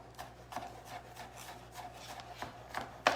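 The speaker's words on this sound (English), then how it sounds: "we're just gonna chop this up real fine" A knife finely chops food on a cutting board for garlic shrimp, with soft, steady strokes about three or four per second that are close and fairly quiet, ending in one sharper chop.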